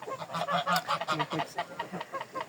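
Repeated harsh honks from an injured goose, loud and close, coming in a steady run of short calls with brief gaps between them.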